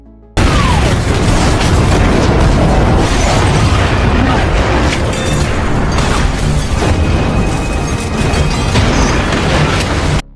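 A big explosion as gas is shot, a sudden loud boom that opens into a sustained roaring, rumbling blast with crackling debris, staying intense for several seconds before stopping abruptly.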